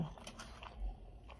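Someone eating oxtail in a close-miked mukbang: soft wet biting and chewing sounds, quiet and intimate over about a second and a half, with no talking.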